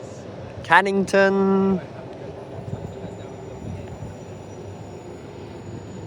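An A-series electric train on the reopened Armadale Line between Byford and Cannington, with a brief pair of loud, tonal horn-like blasts near the start, then a low rolling rumble beneath a station announcement and nearby talk.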